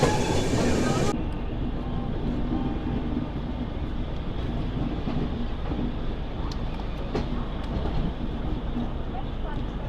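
Godavari SF Express rolling away from Duvvada toward Anakapalli, a steady rumble of the moving train heard from inside the coach, with faint clatter and a voice near the start.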